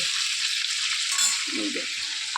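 Prawns frying in a pan for prawn malaikari, a loud, steady hissing sizzle that runs without a break, heard up close with no speech.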